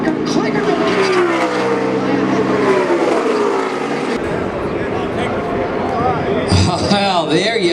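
NASCAR race car engines roar continuously at close range during the 2019 Gander RV Duels at Daytona, their pitch shifting as the cars pass nose to tail, with a voice talking over the noise.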